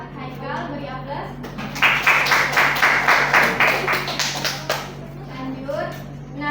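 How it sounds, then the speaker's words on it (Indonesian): A classroom of students gives applause, several seconds of brisk, fairly close clapping that swells and then fades, with voices talking before and after. "beri aplaus"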